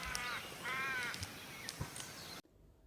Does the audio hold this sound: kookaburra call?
yes